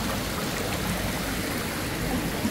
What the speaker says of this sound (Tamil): சுழட்டி அடிக்குதுங்க தண்ணி